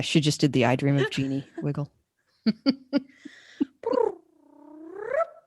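A person talks, then after a pause makes a few short clicks and a rising, drawn-out meowing sound, a human voice imitating a cat.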